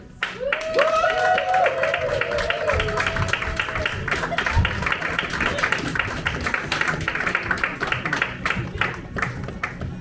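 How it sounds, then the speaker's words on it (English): Applause for a cast of performers at a live show, a steady wash of many hands clapping that holds loud for the whole stretch, with a voice and some crowd noise over it early on. "Please join me in a round of applause"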